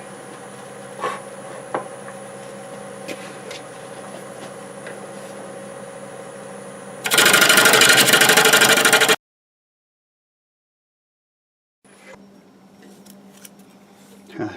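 A redwood burl spins on a wood lathe in a quiet workshop, broken by one loud burst of about two seconds of tool cutting, then silence and faint handling noises.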